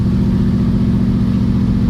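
A worn-out engine with factory bearings and cam lifters runs loud and close, a dense steady low rumble with no talking.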